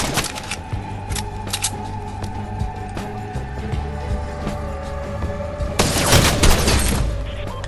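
Rapid bursts of gunfire in a shooter video game, crackling shots repeating close and loud with a heavier cluster of blasts near the end, no talking over them.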